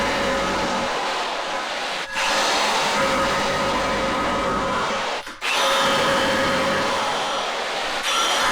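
Power tool whirring loudly and close as it cuts holes in a steel bumper for a 1978 Jeep CJ5 build, running in sustained bursts with two brief pauses.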